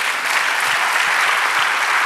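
A church congregation claps loudly and steadily during a Spanish-language sermon, a dense, even wash of applause filling the room without speech.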